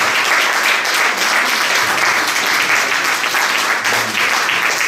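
Sustained audience applause for the band, dense and steady clapping with no gaps for about five seconds.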